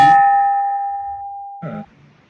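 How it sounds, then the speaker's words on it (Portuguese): A Rotary Club meeting bell is struck twice to open the session: a bright ringing clang that decays slowly, then a second shorter strike that is damped quickly, loud and near, with no talking. "tocasse o sino para iniciar a reunião"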